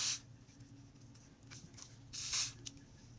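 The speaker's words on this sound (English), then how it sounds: "I'm going to be using the gold spray." Gold spray is misted onto the lace of a kinky curly wig in two short hissing bursts, one at the start and another near the middle, faint and close with quiet pauses between.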